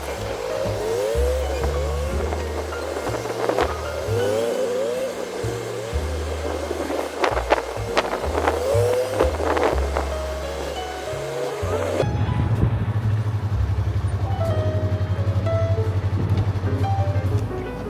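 A car driven in third gear, its engine note rising and falling through a steady drive with tire noise, fairly loud throughout, shifting to a lower drone partway through.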